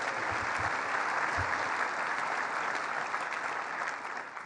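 Audience applause at a government announcement event at Roswell in Western New York, a steady dense wash of clapping from a sizeable crowd, slightly fading toward the end.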